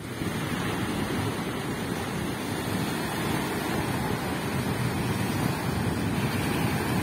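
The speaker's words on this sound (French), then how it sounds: "Saïdia est une station balnéaire avec une très longue plage et eau cristalline." Waves wash onto a long beach at the seaside resort of Saïdia, Morocco, a continuous broad roar of surf mixed with wind buffeting the microphone, with no voices.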